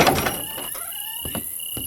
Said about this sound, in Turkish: Hadi kapıyı aç ya